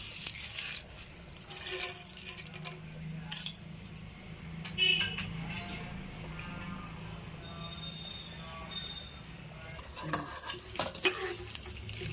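Quiet stirring in a pan, with utensil clinks and scrapes over a soft, light sizzle of tempering spices and peanuts frying in oil.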